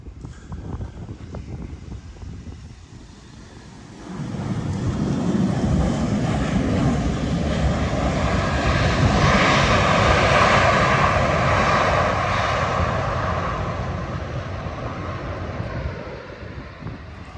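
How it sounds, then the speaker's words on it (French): An airplane landing on an airport runway, its engine roar swelling loudly after a quieter start and holding steady, with broadband rush and wind noise across the whole stretch. "il y a un avion qui atterrit"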